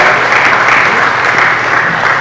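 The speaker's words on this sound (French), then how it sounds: "on peut toujours applaudir pour ce prix-là" Audience applause honouring an award at an official magazine launch ceremony, a steady, dense wash of clapping from many hands that holds evenly throughout without pause.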